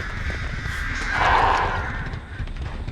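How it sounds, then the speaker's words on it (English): Crows cawing in a video game, a few loud harsh caws swelling in the middle over a low rumbling game soundscape. "Get off of me, you birds."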